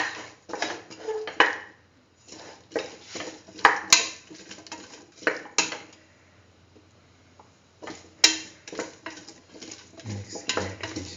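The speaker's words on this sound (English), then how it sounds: "Mix the tomato pieces." A spoon scrapes and clinks against a cooking pot while tomato pieces are stirred into a split chickpea and chayote stew, in irregular bursts of clatter with short quiet gaps and no talk.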